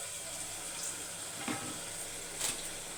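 Tomatoes sautéing in a pan, a steady quiet sizzle with a couple of faint stirring scrapes, heard alone.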